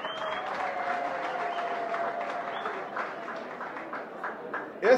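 Steady audience applause fills a crowded gathering honoring President Félix Antoine Tshisekedi, with a dense wash of clapping throughout, a few faint voices and whistles in the crowd, and a louder burst at the very end.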